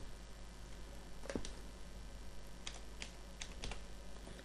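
Keys clatter on a computer keyboard in quick, quiet bursts of clicks with short pauses between them, close by and alone.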